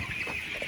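Broiler chickens, about 2,500 of them inside a heated poultry house, cluck in a steady close murmur with a high continuous din across the short stretch and no voices.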